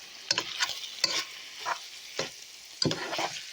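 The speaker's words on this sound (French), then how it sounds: "là, on fait revenir les oignons et la viande" Onions and meat frying in cold-pressed sunflower oil for a Hungarian goulash, with a soft background sizzle broken by repeated scraping bursts from stirring. Each burst comes at an uneven pace, close by, and no voices are heard.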